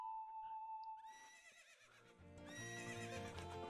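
Epona the horse neighing in The Legend of Zelda: Ocarina of Time, a game whinny with hoofbeat clip-clops and overlapping in-game music notes, clear and fairly loud.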